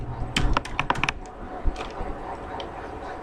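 Fingers type on a computer keyboard, with a quick burst of crisp, close key clicks at the start, followed by softer, sparser taps against a faint room hum.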